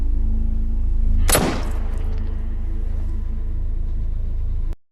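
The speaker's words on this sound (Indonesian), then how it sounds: "Kemudian terdengar suara letusan senjata." A single loud gunshot in a film cracks out sharply over a steady low rumble, then fades into a lingering tail and low background drone.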